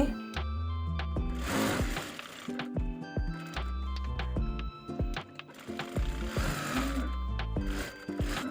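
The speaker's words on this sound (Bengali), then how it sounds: "এখন বডিতে সেলাই করে নিচ্ছি" A sewing machine runs in bursts of rapid, rattling stitching along the body of a kameez, with short pauses and clicks between runs.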